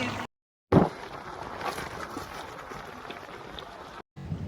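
A river in flood after heavy rain pours over the top of a bridge with a constant, loud roaring rush. The sound cuts out briefly twice and carries on unchanged.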